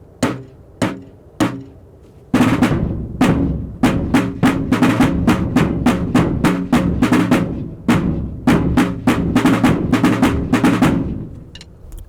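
Rope tension drums, snare and bass drum together, playing a military marching cadence as heard on parade: a few separate strikes at first, then a loud, steady rhythmic drum pattern of sharp repeated hits close up, with no talking.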